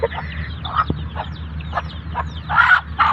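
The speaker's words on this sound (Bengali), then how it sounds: "দেখুন এই যে মুরগি ঠোকর মারতে আসে" Chickens clucking close by in a rural village yard where greens are being picked, a few short bursts of clucks and squawks scattered over about three seconds with faint background ambience.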